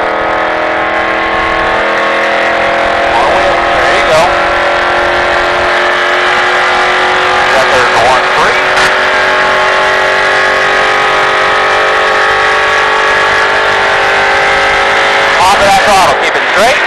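A NASCAR race car engine in Las Vegas roars continuously and loud from inside the cockpit, its high buzzing note rising and dipping with the throttle through corners, while a voice talks over it.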